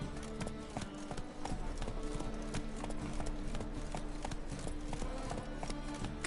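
Geralt's horse Roach trotting in The Witcher 3, hooves clopping in an even, brisk rhythm throughout, fairly close and loud over a steady bed of city ambience with faint background chatter.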